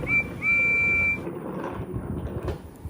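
A railway guard's whistle signals a train's departure from a station, with a short shrill blast and then a longer held one over low rumbling background noise.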